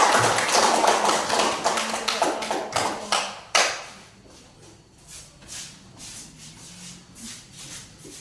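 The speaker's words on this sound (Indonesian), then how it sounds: "Coba tepuk tangan buat kelompok 3" A class claps for a group, a dense burst of applause for about three and a half seconds that ends in one sharp clap, then scattered faint taps and shuffling.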